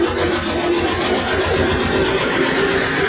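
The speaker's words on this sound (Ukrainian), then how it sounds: "Бо генератор присідає, звісно, сварка більше бере." Three-phase 380V 4 kW generator driven by a T-16 tractor engine, running under welding load, a loud steady mid-low engine drone with a constant hum, no talk.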